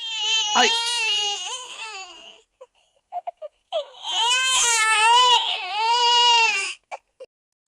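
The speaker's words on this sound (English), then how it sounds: "crying baby sound effect." An AI-generated baby crying in loud, wailing bursts: a long cry, a pause with short whimpers, then another long sustained wail that stops suddenly, close and alone with no other voices.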